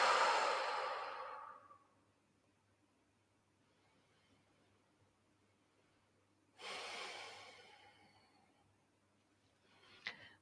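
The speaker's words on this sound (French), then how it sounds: "Et ici, on va venir respirer." Slow, deep breathing during a guided relaxation exercise, a long airy exhale, a quiet pause, then another audible breath in and out, close and soft, with no talking.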